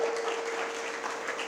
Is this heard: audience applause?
yes